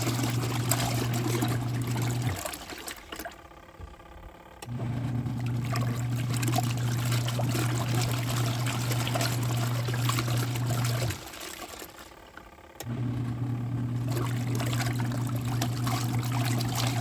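A top-loading washing machine fills its drum with water, a steady rushing flow with a low hum that pauses twice for a couple of seconds before resuming.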